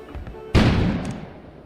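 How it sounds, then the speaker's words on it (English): A single sudden booming explosion bursts outside in the video game Kona after a quiet stretch, loud and close, then trails off in a rumbling decay. "An explosion suddenly occurred outside."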